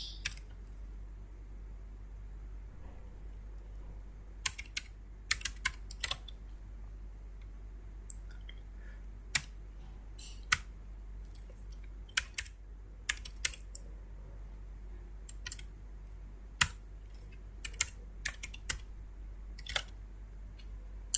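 Typing on a computer keyboard while coding a Python tutorial: scattered sharp key clicks in short irregular bursts with pauses between, close and fairly quiet over a low steady hum, no talking.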